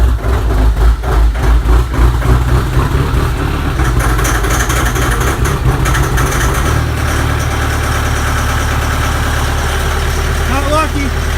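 A Kubota utility tractor's diesel engine idles steadily while warming up in snowy conditions, a loud, continuous low rumble that holds an even pitch from start to finish.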